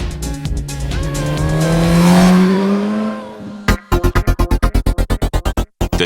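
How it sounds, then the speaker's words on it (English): Suzuki GSX S1000 motorcycle engine revving up through a rising exhaust note, then cutting to a loud, rapid series of sharp, evenly spaced exhaust pops or blips near the end. "It also delivers an exciting exhaust note."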